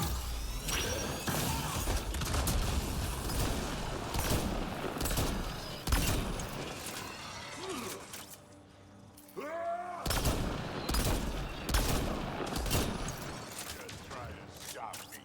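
Video game gunfire from a sci-fi shooter cracks out in dense, rapid bursts, loud and close, with repeated shots clustered through most of the stretch and a brief lull near the middle; a voice talks over parts of it.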